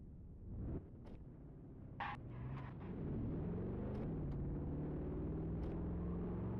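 A car driving in the Central Kansas Roleplay video game: a steady low engine rumble that builds after a couple of seconds, with a few brief clicks over it and no talk.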